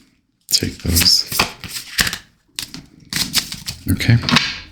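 Tarot cards are shuffled in quick riffling bursts, crisp papery flutters separated by brief pauses, close to the microphone.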